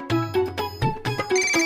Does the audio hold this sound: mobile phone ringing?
yes